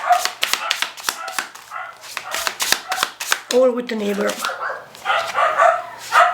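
Dogs barking behind a gate, a quick run of sharp, loud barks in the first few seconds, with a person talking nearby afterward.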